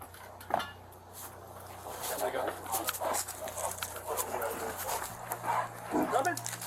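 Police sniffer dogs bark in short, scattered bursts at a fairly low level, mixed in with shouting voices.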